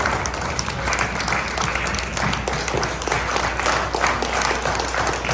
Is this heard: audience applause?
yes